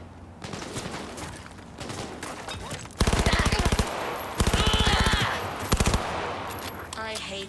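Rapid automatic gunfire from Cyberpunk 2077 rattles out in loud, sharp bursts, with several separate volleys broken up by quieter stretches of game sound.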